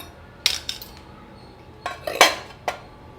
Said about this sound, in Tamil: மோரை இது மாதிரி கடைஞ்சிக்கோங்க